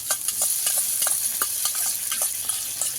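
Sour yogurt spooned into a fish curry with peas simmering in a frying pan, giving a steady close sizzle with repeated soft stirring clicks and scrapes and no talk.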